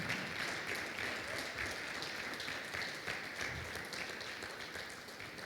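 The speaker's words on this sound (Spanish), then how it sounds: "¿Le puede dar un aplauso al Señor?" Congregation clapping in a church, a fairly faint, continuous spread of many hands that tapers slightly toward the end.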